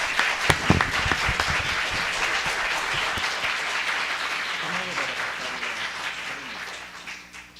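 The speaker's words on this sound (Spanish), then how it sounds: "recibámoslo con un gran aplauso y con mucho cariño" Sustained audience applause at a university lecture hall welcoming a keynote speaker, dense steady clapping from a large crowd that slowly thins and fades toward the end, with faint voices underneath.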